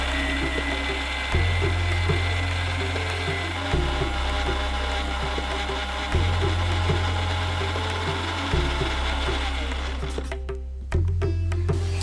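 A mixer grinder blends spinach, garlic and ginger into a fine puree, its motor whirring loudly in repeated pulses about every two and a half seconds, with a clattering jar and a brief stop near the end.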